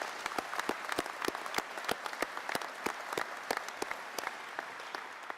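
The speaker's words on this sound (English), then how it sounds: "Let's give them a round of applause." A small crowd at a press conference at the 188th Wing Air Base gives National Guardsmen a round of applause: sparse, distinct claps in an uneven patter, fairly quiet and steady over several seconds, with no talk over it.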